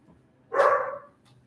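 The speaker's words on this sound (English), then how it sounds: "the dogs are going nuts." Dogs bark in one short, fairly loud burst partway through, with quiet room noise before and after and no talk.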